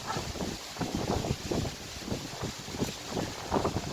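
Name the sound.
wind blowing through tree branches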